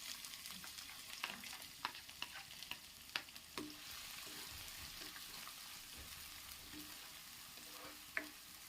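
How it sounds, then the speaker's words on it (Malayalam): Sliced onion sautéing with garlic and dried chili in a pan for a potato dish, a faint, continuous frying hiss under scattered clicks and scrapes of stirring, with no talking. "നമ്മൾ എടുത്ത് വെച്ചേക്കുന്ന സവാളയും കൂടി ഇട്ടിട്ട് നമുക്ക് നല്ലതുപോലെ ഒന്ന് വഴറ്റിയെടുക്കാം"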